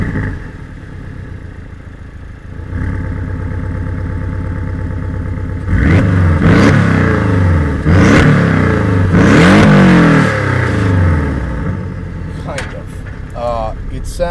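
Porsche 718 Boxster S with a 2.5-liter turbocharged flat-four revving at low RPM, a loud rumbling engine note that swells and surges in several rises, with a voice speaking over parts of it.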